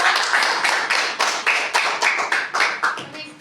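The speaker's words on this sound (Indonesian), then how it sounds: "Beri tepuk tangan untuk teman yang sudah maju." Classmates in a classroom clap together for peers who presented, a steady run of sharp, fairly close handclaps with slightly uneven rhythm, tapering off at the end.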